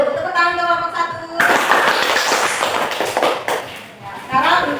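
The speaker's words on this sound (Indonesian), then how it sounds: "Tepuk tangan kelompok 1." A classroom of pupils applauds group 1 after a presentation, a burst of mixed claps and taps starting after a brief spoken moment and continuing with voices mingled in.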